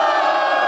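A rap battle audience at a Red Bull regional qualifier lets out a brief, loud burst of cheering and shouting, a dense crowd roar lasting under a second.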